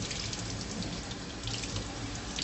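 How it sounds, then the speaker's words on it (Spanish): Cold tap water running steadily into a sink as fresh cilantro is rinsed, a constant close splashing rush without pauses or speech. "Lo primero que deberíamos hacer será lavar nuestro cilantro"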